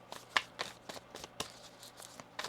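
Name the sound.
tarot cards being shuffled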